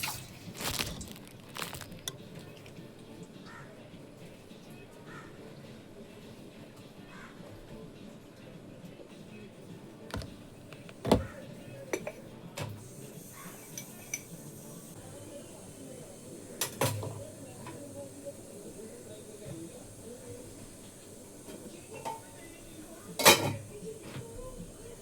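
Chicken being mixed with salt and masala in a bowl brings soft, quiet stirring and squelching, broken by occasional sharp clinks of a spoon against the bowl, close by and mostly alone.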